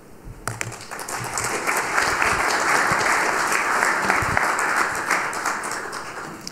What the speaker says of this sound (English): And if you could give Heidi another big, happy applause